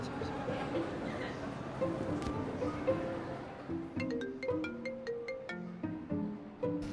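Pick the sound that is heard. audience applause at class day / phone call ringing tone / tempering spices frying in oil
phone call ringing tone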